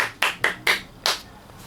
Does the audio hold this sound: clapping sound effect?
yes